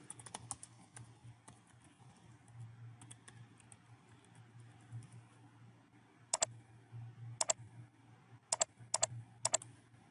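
A password being typed on a computer keyboard: sparse soft key taps early, then a few sharper, louder clicks in quick clusters near the end over a low steady hum, no talking.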